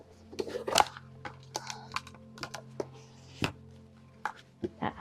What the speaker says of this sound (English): first of all I'll put my clips on.